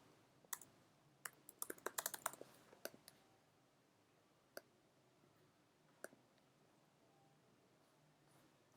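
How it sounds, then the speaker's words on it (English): Mouse clicks and computer keyboard typing while text is entered on screen, a quick cluster of crisp taps and double clicks followed by a few isolated clicks, close but very quiet in an otherwise silent room. "Okay, here also I can just double click and then enter the text."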